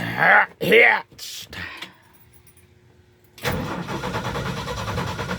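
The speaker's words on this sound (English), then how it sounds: "we might just kind of tap on the old starter again" An old Ford engine cranks on its starter, a loud, steady churning whir that begins partway through and runs to the end, after a short spell of talking and a quiet pause.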